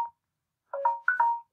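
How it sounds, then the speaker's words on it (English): A phone rings: a brief electronic blip, a pause, then two warbling ring bursts of a bright melodic tone, close and clear with no talking. "I think that's my phone"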